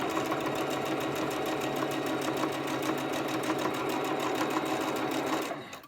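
A sewing machine stitches quilt pieces along a seam line using a quarter-inch presser foot, with a fast, steady rhythmic whirring and clatter close by that stops abruptly at the end.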